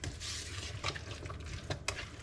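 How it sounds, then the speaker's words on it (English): A spoon stirs a chicken, bacon and cornbread casserole mixture of milk, eggs and canned ingredients in a baking pan, making soft wet scraping and squelching close by, with a few light clinks. "You want to make sure you get that all mixed in there."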